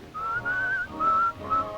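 A man whistles a short tune alone and close by, holding four or five clear notes with brief breaks between them.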